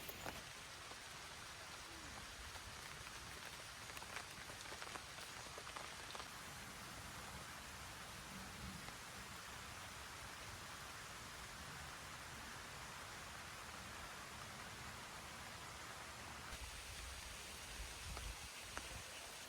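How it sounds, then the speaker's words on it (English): Heavy outdoor downpour of rain, a steady dense hiss of drops pattering on surfaces that holds unbroken throughout with no voices. "I think we're about to have a bit of a downpour."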